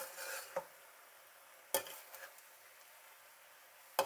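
Fried rice with vegetables and sauce is stirred in a pan, a quiet steady sizzle broken by a few sharp scrapes and knocks of a utensil against the pan.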